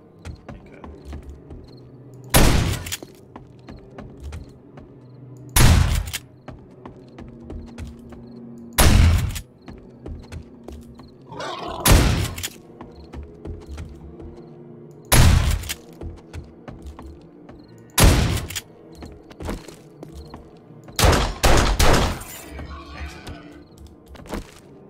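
Shotgun blasts in the video game Resident Evil set in the Spencer Mansion, about eight loud, sharp booms spaced a few seconds apart, the last two close together, with quieter game ambience between shots.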